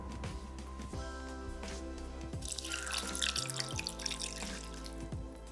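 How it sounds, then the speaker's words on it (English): Water is poured into a saucepan, 200 ml, with a short splashing, gurgling pour in the middle, set over steady background music in a kitchen. "Place in a saucepan and add"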